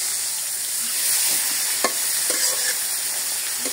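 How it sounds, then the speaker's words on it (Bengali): Fish frying in a pan, a steady bright sizzle of hot oil with a few sharp crackles and spits, close and fairly loud, no voices. "মাছটা আমি খুব সুন্দর করে ভেজে নিব"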